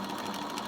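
A sewing machine stitches a band onto a beret, giving a brief, steady, close-up mechanical whir with no pauses.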